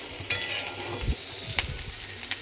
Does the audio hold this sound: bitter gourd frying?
yes